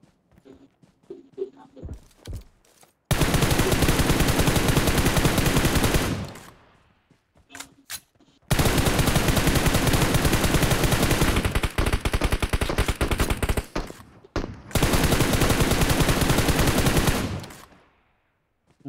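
Bursts of automatic gunfire from a BGMI battle royale match, three long sustained volleys of rapid shots separated by short pauses with scattered single shots, loud and close.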